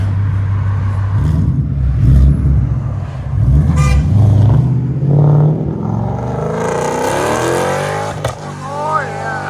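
A Ford Mustang GT with a 5.0L V8, Bassani exhaust, resonator delete and mid-length headers revs hard with loud, deep throaty bursts, then a rising engine sweep near the end, with voices talking over it.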